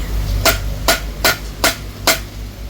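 Five sharp metallic taps as a Yamaha Sniper 155 brake caliper part is tapped on steel, evenly spaced about every half second, ringing close and clear over a low steady hum.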